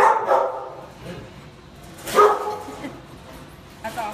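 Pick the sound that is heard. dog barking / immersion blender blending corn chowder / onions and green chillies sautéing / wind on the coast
dog barking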